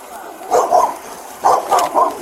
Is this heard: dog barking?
yes